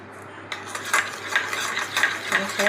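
A hair pack is stirred and mixed in a bowl, with a string of close, rhythmic scraping strokes of a spoon against the bowl and no talk.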